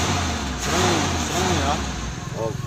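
A 1996 Daihatsu Espass 1.6 idles nearby with a low, steady engine rumble running underneath while people talk over it.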